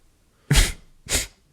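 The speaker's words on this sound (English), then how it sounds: "I think I have to sneeze." Two sharp sneezes in quick succession, close and loud, the first stronger than the second, with near silence around them.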